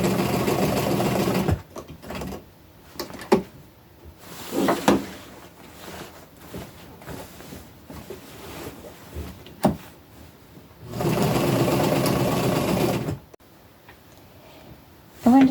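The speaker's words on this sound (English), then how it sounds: "I'm going to go to the machine and I've got everything pinned in place where I want it. And I'm going to sew it all on" A sewing machine stitching pinned patches onto upcycled clothing for a tunic, running in bursts at the start and again midway, with clicks and handling noises of fabric and parts between the runs.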